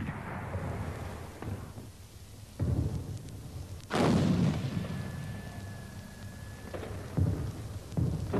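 Heavy artillery fires on German lines during the 1916 Somme bombardment, heard as deep distant booms and rumbling blasts that arrive at irregular intervals over a continuous low roar.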